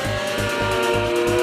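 Porsche 924 race cars battling on the Oulton Park circuit, engines roaring loud and steady with a pulsing, rhythmic drone as the pack runs close together, no voices over it.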